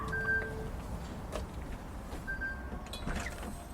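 An outgoing telephone call is placed, with faint, sparse dial and connection tones over a low background hum, a few short beeps scattered across nearly four seconds.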